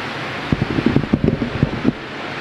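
Constant whooshing drone of several electric ceiling fans running in a gathering hall, steady and loud, with a faint voice murmuring over it.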